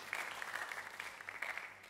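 A church congregation at an online service claps in brief, fairly soft, steady applause, a dense patter of many hands with no voices over it.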